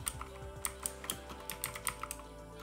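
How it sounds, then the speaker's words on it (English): Typing on a computer keyboard while entering a git command to set up a Raspberry Pi: a quick, close run of light plastic key clicks at an uneven rhythm, with no talking. "we're going to type the command git"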